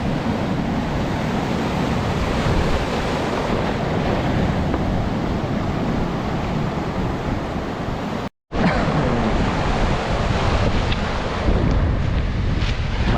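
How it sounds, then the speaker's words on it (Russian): Strong wind roars against the microphone alongside crashing sea surf at a river mouth on the Black Sea coast near Lazarevskoye, a loud constant wash broken by one brief dropout. "но волны стали поменьше."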